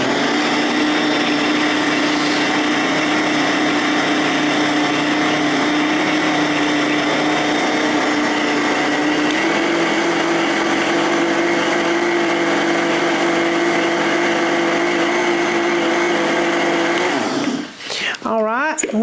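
A blender runs continuously, spinning a batch of eggless eggnog with cinnamon, a loud steady motor whine that shifts pitch slightly partway through before winding down and stopping near the end.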